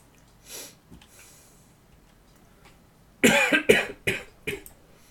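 A man's loud, harsh cough in a lingering cough after a motorbike accident, a cluster of five or six sharp bursts close to the microphone, following a quieter breath and faint sounds.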